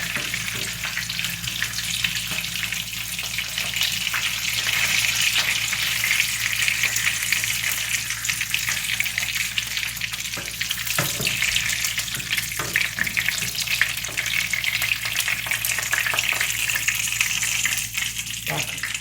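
Fish fry in a pan with a loud, continuous sizzle that holds steady throughout, with occasional soft clatters from the pan.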